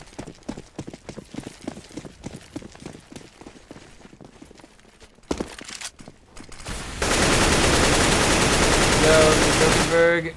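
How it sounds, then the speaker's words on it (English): Counter-Strike match at IEM Katowice: quick in-game footsteps patter, then loud, dense gunfire erupts and sustains toward the end before cutting off. "gonna be opening fire"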